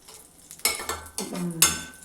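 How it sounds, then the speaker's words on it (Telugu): Chopped onions and green chillies fry in a pan while a spatula stirs them, giving a few scraping clatters against the metal over a light sizzle. "ఆనియన్స్, అవన్నీ కూడా ఫ్రై చేసుకుందాం"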